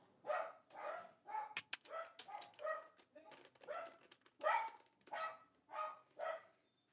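Dogs bark at a delivery truck in a steady run of loud, repeated barks with some yips, spaced about every half second across the whole stretch, mixed with a voice talking.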